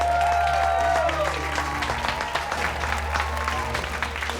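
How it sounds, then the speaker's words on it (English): Brief applause from a group rises over a low hum, with a voice briefly audible as the clapping continues. "Give yourselves a round of applause."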